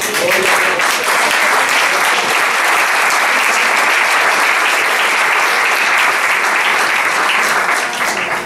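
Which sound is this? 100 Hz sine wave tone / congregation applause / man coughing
congregation applause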